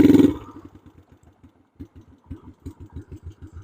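A 1972 Honda CB450 motorcycle engine, faulty with a slipping third gear, blips briefly then settles into a rough, uneven idle with clattering, irregular pulses, close and moderately loud.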